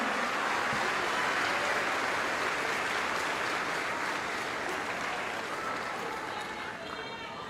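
A large audience at an evangelical church conference in a gymnasium applauds in a dense, roaring wash of clapping that holds steady and then eases off slightly toward the end.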